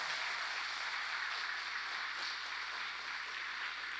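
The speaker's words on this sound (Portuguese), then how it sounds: "Aplauda Jesus e a palavra dele," A church congregation at a praise and worship service applauds in a steady, continuous wash of clapping, moderately distant and unbroken by talk.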